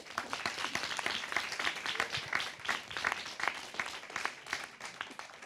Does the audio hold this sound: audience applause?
yes